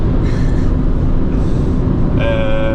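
Steady, loud road and engine rumble fills a car interior while driving, a continuous low drone with a faint higher tone appearing toward the end.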